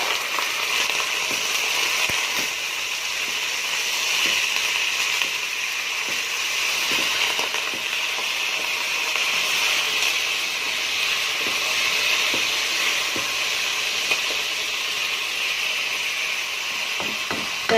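Minced meat frying with potatoes in a pan, a continuous bright sizzle and hiss with scattered small crackles and pops, steady and close throughout.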